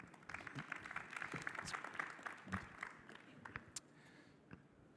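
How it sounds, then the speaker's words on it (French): Scattered applause from a workshop audience in a conference room, faint and uneven, with individual claps popping out and the clapping thinning toward the end. "par l'intermédiaire de Sylvain, de chez Evals, que je vous demande d'applaudir, s'il vous plaît."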